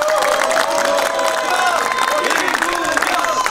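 Crowd at a Democratic Party campaign rally in Gangwon cheering and clapping together, a dense, loud, continuous roar with shouting voices mixed in.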